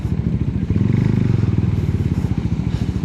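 Suzuki Raider motorcycle engine rumbling close by as it passes on McArthur Highway in Apalit, Pampanga, a loud steady pulsing drone with road noise.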